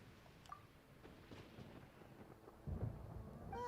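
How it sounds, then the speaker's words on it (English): Thunder from a storm in the video game Genshin Impact: a faint, low rumble that rolls along and swells toward the end, with no speech. "Paimon hears thunder!"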